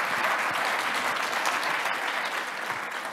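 Conference audience applauding at an e-commerce forum, a dense, steady wash of many hands clapping throughout at even loudness, with no voices breaking through.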